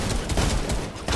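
Enemy gunfire in a Fortnite match, a dense, continuous rattle of shots that fills the whole brief moment at moderate loudness.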